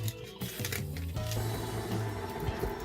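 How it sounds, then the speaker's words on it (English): An electric mixer creams soft butter for gluten-free double chocolate orange beet cookies, giving a steady close whirring drone with shifting motor pitch that runs throughout without talking. "So we're going to cream our butter, which is soft."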